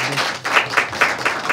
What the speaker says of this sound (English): how about a round of applause for his presentation?